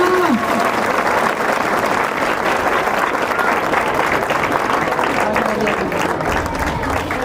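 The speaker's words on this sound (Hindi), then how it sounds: "आप लोग से भी अनुरोध होगा कि इतना क्लैपिंग कीजिए कि बाहर तक आवाज सुनाई देनी चाहिए" Loud, continuous clapping from a large audience at a school inauguration ceremony, steady and dense throughout with faint voices underneath.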